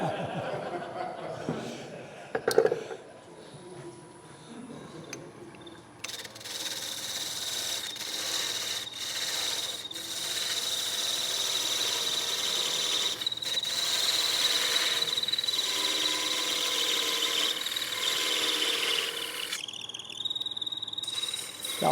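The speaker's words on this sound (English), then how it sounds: "Hear that noise? The lathe always tells you if something's wrong." A wood lathe turning a magic cup in a woodturning demo, giving off a steady whirring, scraping rasp with a faint high whine through most of the stretch, with a few brief knocks early on and some soft talk beneath.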